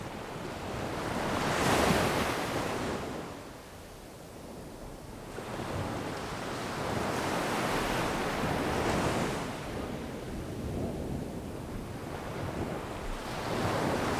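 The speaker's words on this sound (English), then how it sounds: "We land on a long stretch of beach swept by the riptide." Surf breaks and washes onto a long riptide-swept beach, with broad swells of hiss rising and falling every few seconds under steady wind noise on the microphone; nobody speaks.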